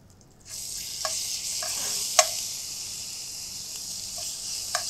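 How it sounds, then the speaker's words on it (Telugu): Bay leaf, cardamom, cloves, cinnamon, green chillies and ginger-garlic paste sizzle in hot oil, a steady close hiss with a few light stirring clinks and one sharper tap. "బిర్యానీ ఆకు, యాలకులు, లవంగాలు, సాజీరా, దాల్చిన చెక్క, పచ్చిమిరపకాయలు, కొంచెం అల్లం వెల్లుల్లి పేస్ట్ ఇవన్నీ యాడ్ చేసి ఫ్రై చేస్తున్నాం"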